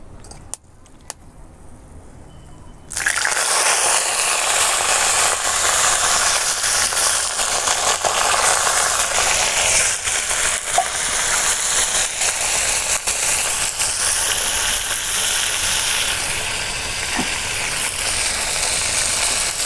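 Bay leaf and cinnamon sticks drop into hot oil as the base for a mutton curry: a quiet pause, then a sudden loud, steady sizzle that hisses on evenly to the end.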